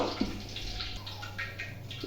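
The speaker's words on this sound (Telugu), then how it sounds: "ఇప్పుడు కొంచెం వాటర్ వేసుకొని కలుపుకుందాము" Water pours and sloshes into a thick cabbage pakodi batter being stirred close by, over a steady low background hum.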